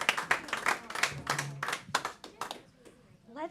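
An audience claps for the band at a Friday night concert. The clapping is dense and moderately close, then thins out and fades, with a voice speaking over part of it.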